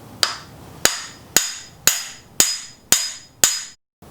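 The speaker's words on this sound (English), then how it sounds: "I use a big socket to help me tap the bottom sprocket down into its place." Seven sharp metallic taps ring out at an even pace as a large socket is struck to drive an engine sprocket down into place on a Ford Ranger truck engine, close and clear with no talk.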